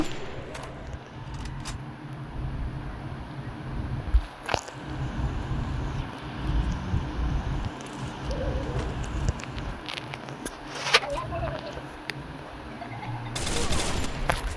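Gunfire in the mobile shooter game Free Fire crackles in short sharp bursts and isolated shots, some loud and close, against a busy game soundscape.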